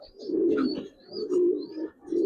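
Pigeons at a farm keeping high flyers, Budapest, racer and fancy breeds give three loud, close, rolling coos in a steady rhythm, with faint chirps above.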